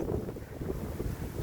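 Strong wind rushes through a forest, buffeting the microphone with low, rumbling gusts that swell and ease continuously; no voices are heard.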